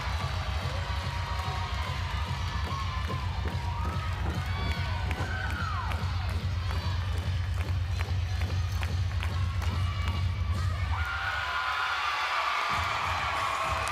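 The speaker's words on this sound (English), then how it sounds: "there's a big crowd here supporting NC State" Large arena crowd cheering for NC State at a college gymnastics championship, a steady loud roar with scattered shouts and rhythmic claps, with a commentator's voice running over it throughout.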